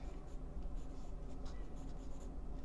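A pencil draws short vertical lines on paper, a steady, soft scratching of quick repeated strokes, close and quiet.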